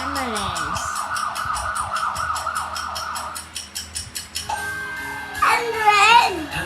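An ambulance siren wails in a loud, rapid rising-and-falling pattern, with a voice chattering over it toward the end.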